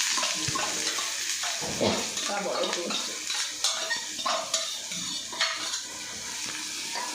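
Chopped onions sauté in a hot pan after mustard seeds have popped, giving a steady sizzle broken by the scrape and clatter of a stirring spoon against the pan.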